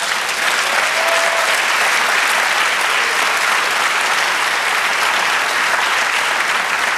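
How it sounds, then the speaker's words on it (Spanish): A church congregation claps in loud, steady applause during a Spanish-language prophetic sermon, a continuous roar of hands filling the room. "Denle un aplauso al Señor."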